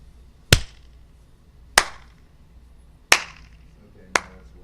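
Four single hand claps, loud, sharp and evenly spaced about a second and a half apart, each with a brief room echo, during a sound check in a quiet hall.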